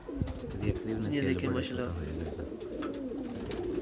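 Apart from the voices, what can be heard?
pigeons cooing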